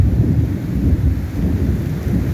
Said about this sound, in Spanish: Está relampagueando y está tronando bastante.